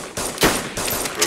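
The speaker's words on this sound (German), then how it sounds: "Mehrere andere Schüsse auch noch. Woanders irgendwo." Bursts of distant gunfire in the video game DayZ, several sharp cracks and a short volley spread over about a second, loud with no talking.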